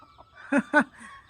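A startled chicken perched on a tin roof gives two short, loud clucks in quick succession, close by, with faint background sounds around them.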